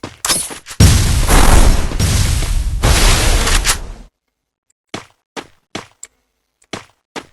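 Free Fire game combat: a loud sustained blast of explosions and gunfire for about four seconds, then silence broken by five or six sharp isolated gunshots spaced through the rest.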